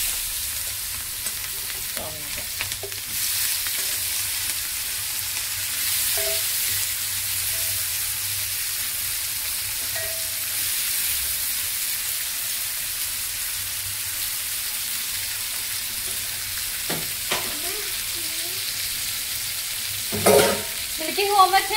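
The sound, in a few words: onions and green chillies frying in oil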